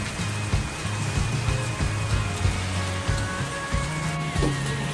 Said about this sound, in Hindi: लेकिन अभी भी बारिश काफ़ी तेज़ हो रही है।